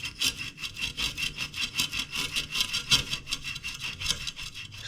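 A fan coil unit shaft is sanded by hand in rapid, steady back-and-forth strokes, a close, rhythmic rasping that continues evenly throughout with no talk.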